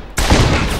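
A single loud video game gunshot bursts in abruptly and rings out with a brief booming tail, up close.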